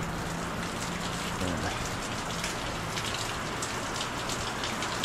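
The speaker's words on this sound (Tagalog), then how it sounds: "Lakas pa rin po ng ulan." Heavy rain pours steadily, a dense, constant hiss of drops drumming on surfaces with no pauses.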